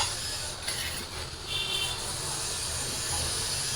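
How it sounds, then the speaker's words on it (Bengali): Tilapia fish frying in hot oil in a wok gives a steady, close sizzling hiss that holds evenly throughout, with no talking. "তো এই মাছটাকে ভেজে নিই"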